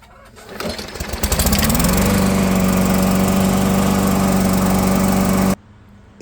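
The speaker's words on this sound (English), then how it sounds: "Now let's fire it up." A walk-behind lawn mower engine is pull-started and catches within about two seconds, rising into a loud, steady, close running roar for several seconds before cutting off abruptly.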